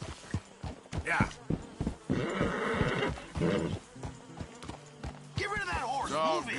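A horse in the video game Red Dead Redemption 2 whinnies with rising and falling harmonic cries near the end, following a stretch of talking voices and clattering, busy background sound.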